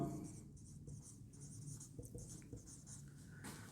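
Marker or chalk strokes on a board in a classroom, with short, faint scratches coming in quick bursts.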